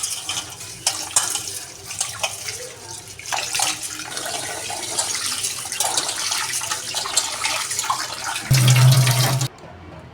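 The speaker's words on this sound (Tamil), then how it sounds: "இப்போ இதை நல்லா கழுவிக்கிட்டு தண்ணி ஊற்றி ஊற வச்சுருவோம்" Rice being washed under a running kitchen tap, a continuous splashing water flow with clattering grains, then a deeper gush as a vessel fills before the water cuts off abruptly.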